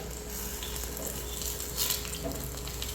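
Banana fritters (pazham pori) deep-frying in hot oil give a steady, close, even sizzle with fine crackling, with no voices over it.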